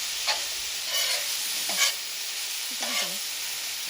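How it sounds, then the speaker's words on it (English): Lamb keema with green chilies frying in a pan under steady sizzling, broken by several scraping stir strokes of a spoon at a loose, unhurried rhythm. "Stirring this for about 5 to 10 minutes."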